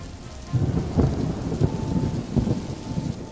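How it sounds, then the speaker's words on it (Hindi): Heavy rain pours steadily, with low rumbles of thunder rolling underneath throughout; no voices. "धीरे धीरे करके बारिश बहुत तेज हो जाती है"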